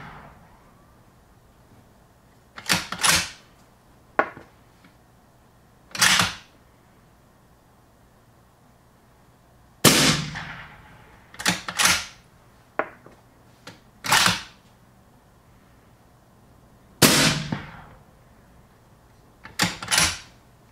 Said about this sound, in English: I'm shooting 166 A-tips out of a 22-inch barrel.